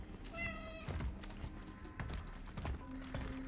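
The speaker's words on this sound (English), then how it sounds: "The louder the meow, the more urgency you're trying to communicate." A cat in a horror video game meows in short repeated calls, with clopping footsteps and mechanical thunks beneath.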